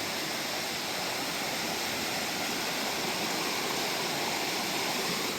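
River rushing through the Fautaua valley on Tahiti, a dense, steady roar of flowing water heard close and loud without pause, no voices.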